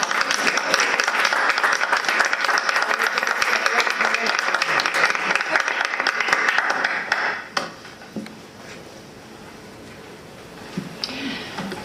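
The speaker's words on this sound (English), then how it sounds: "I think the class of 87 deserves a round of applause" Applause for a graduating class at a school district board of education meeting, a crowd of hands clapping loudly for about seven seconds before dropping away to quiet room sound with a few scattered noises.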